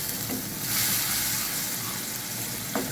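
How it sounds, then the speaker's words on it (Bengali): Taro (kochu) frying in a pan over high heat for a traditional Bengali dish, a soft continuous sizzle and hiss with a brief surge of steam and a light stir near the end. "আঁচটাকে জোরে করে দিয়ে একটু ভাজা ভাজা করে নিতে হবে।"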